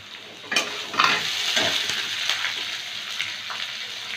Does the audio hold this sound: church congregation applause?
no